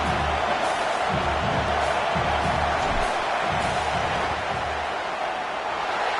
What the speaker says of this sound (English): This crowd trying to do its part to get inside the kicker's head.